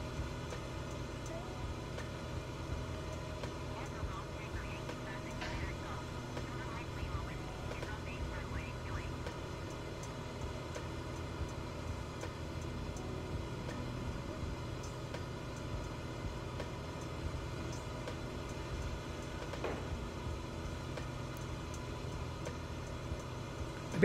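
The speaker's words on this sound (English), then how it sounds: "This is a bit noisy in the cockpit, but if I go outside, it's okay." Steady cockpit drone of a small aircraft in Microsoft Flight Simulator 2020, an even, moderately loud hum and hiss throughout with soft talking over it.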